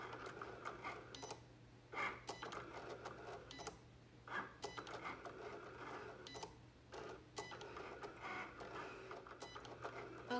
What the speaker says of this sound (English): film the rest of this as it goes through the different mats so that you can see how the Cricut does it